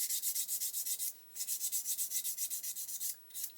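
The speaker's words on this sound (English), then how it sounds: "I'm going to sand off that seam all the way around" Sanding off a seam on a 1/8 scale Porsche 917 model kit part from Pocher, rapid rhythmic back-and-forth rasping strokes, close and hissy, with two short breaks in the rhythm.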